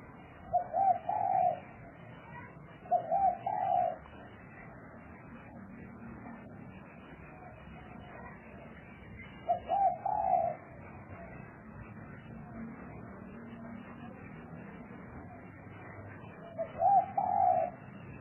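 Wild spotted dove cooing in four separate bursts of soft, repeated hooting notes, spaced several seconds apart over a steady low outdoor background, moderately near and alone with no voices.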